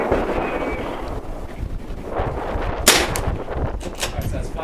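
Rimfire rifle shots fired at a target outdoors, a sharp crack standing out over steady wind noise on the microphone, followed by a few softer impulsive sounds.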